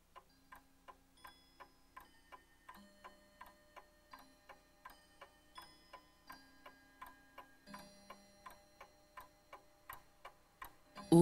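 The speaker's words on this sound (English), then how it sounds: "The clock marking off each hour of dread struck into the tension with the shattering effect of a thunderclap." A household clock ticks at an even, steady rhythm, roughly two ticks per second, close and fairly quiet, with a faint tonal hum underneath and no voices.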